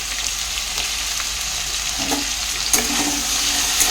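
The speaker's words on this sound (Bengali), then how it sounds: "এবার আলুগুলোকে আমি খুব সুন্দর করে ভালো করে ফ্রাই করে নেব" Diced potatoes with salt and turmeric fry steadily in hot oil, giving a dense, continuous sizzle with occasional stirring scrapes, close and alone with no talk.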